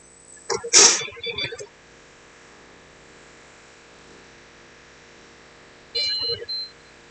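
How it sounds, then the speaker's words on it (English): A computer motherboard sounds its POST beep code for a video error, with a short electronic burst near the start, a long quiet stretch, then another brief beep. "That's a video post. That's a video beep."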